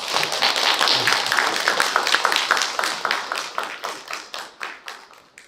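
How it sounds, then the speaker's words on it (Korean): An audience at a humanities lecture in Jeju claps to welcome the speaker, a full burst of applause that starts dense and loud, then thins into fewer, separate claps as it fades out. "큰 박수로."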